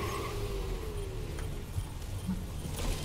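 Junkrat's RIP-Tire from the video game Overwatch drives along with a continuous low motorized rumble and whine, steady and fairly loud, mixed with other game sounds and a rattling jangle.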